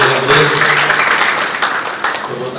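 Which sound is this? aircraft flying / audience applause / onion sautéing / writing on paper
audience applause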